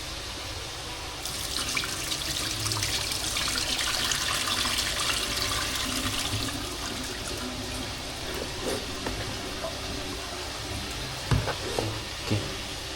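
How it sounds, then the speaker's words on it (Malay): Water is poured out during cooking of a stew with wild game and wild fern leaves, a broad rushing splash for several seconds that fades into quieter trickles and a few clatters. "Siaplah kita buangkan air"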